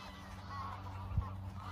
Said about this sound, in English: What do you call it? Canadian geese.